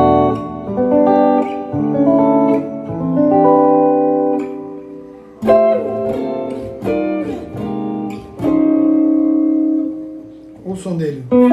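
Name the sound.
guitar played through UAD Fender Deluxe amp emulation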